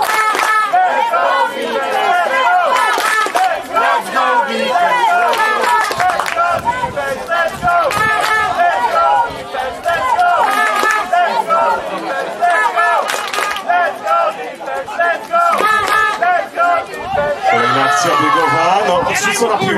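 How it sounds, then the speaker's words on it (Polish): Stadium crowd at an American football game between Wilki Łódzkie and Angels Toruń chanting a rhythmic defensive cheer and clapping twice, repeated loudly over dense crowd noise. "Krzyczymy let's go defense, let's go i klaszczemy dwa razy."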